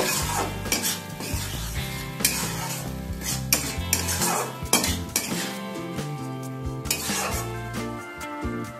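Cooked banana stem with sugar is stirred in a pot, making repeated close clinks and scrapes of a metal spoon against the vessel. A faint sizzle and a steady tonal hum sit underneath.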